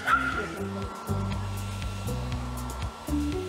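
Dogs of many breeds vocalize at an all-breed dog show held in a small Canadian prairie town, with repeated barks and whimpers over a steady mechanical hum in a busy indoor hall.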